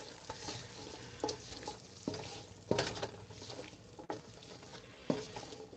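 Onions stirred and frying in bacon fat in a home kitchen, making a quiet, close sizzle broken by a few scraping stirs and soft clinks of the utensil against the pan.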